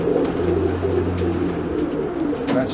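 Tippler pigeons coo in a loft, a low steady hum with soft repeated coos running throughout, fairly close with faint background noise.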